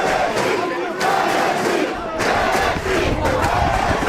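LSE supporters in a university rugby varsity crowd roar and cheer loudly and continuously, a dense sustained wall of voices with brief dips before surging again.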